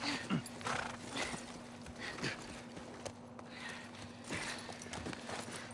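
Horse hooves in The Last of Us Part I clip-clop in a steady walking rhythm with a brief whinny near the start, set against a constant low hum and background noise.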